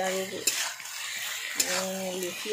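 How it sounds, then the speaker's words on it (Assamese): Tomatoes fry with potato and chicken in a pan, giving a close, steady sizzle broken by a few sharp scrapes and clinks of stirring. Something tonal hums faintly underneath. "ইয়াতে মই এতিয়া বিলাহীখিনি দি পেলাই আকৌ ভাজি থাকিম"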